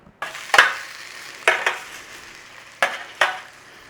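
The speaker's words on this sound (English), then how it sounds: "Sausages are going to cook for about 20 minutes. You can give them a shake if you want." Sausages frying in a pan, the sizzle swelling in loud bursts each time the pan is shaken, four or five sharp surges over a steady close hiss, no talk.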